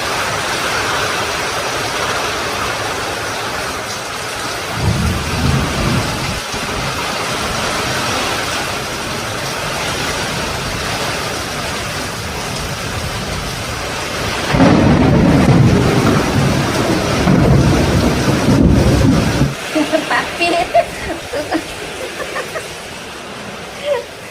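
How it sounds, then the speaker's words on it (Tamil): Heavy rain with thunder in Sivakasi: a continuous broad wash of rainfall broken by deep, rolling low rumbles, one short and one longer and louder burst later on. "சிவகாசியில் சூப்பரான மழை வருதுங்க"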